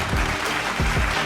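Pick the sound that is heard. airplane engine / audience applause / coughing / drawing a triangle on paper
audience applause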